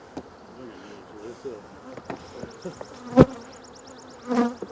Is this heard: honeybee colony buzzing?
yes